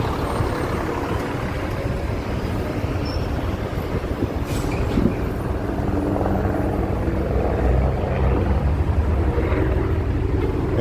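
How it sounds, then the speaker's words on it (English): A steady low rumbling drone of a helicopter overhead, continuous and fairly loud amid outdoor street noise in Chicago at noon, with no talking. "I hear a helicopter."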